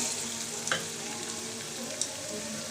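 Topse fish fry in hot oil with a soft, steady sizzle, fairly faint, with a couple of brief clicks from stirring or placing pieces.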